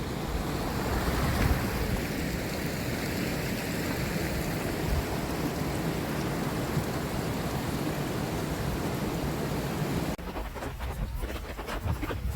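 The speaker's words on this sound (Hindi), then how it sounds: "बारिश हो रही है" Heavy monsoon rain pours steadily at the Bhandardara waterfalls, a dense, loud, unbroken hiss of falling water that fills the whole scene, shifting briefly to a rougher, crackling texture near the end.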